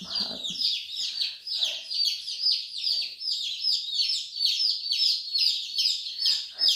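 Baby chickens kept indoors chirp continuously in a dense chorus of high, rapid peeps at close range, with occasional low background rustling.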